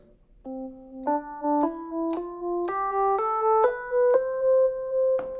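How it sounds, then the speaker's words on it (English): A single instrument plays a rising major scale, eight clear stepwise notes in an even rhythm, with a slight pause before the top note. "So I'm gonna play a major scale one more time"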